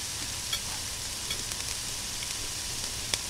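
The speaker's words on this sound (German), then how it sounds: "Hier brutzelt alles schön vor sich hin." Food sizzles steadily on the grill of a kebab restaurant cooking simulator, a dense, even hiss of frying with faint clicks scattered through it and no voice over it.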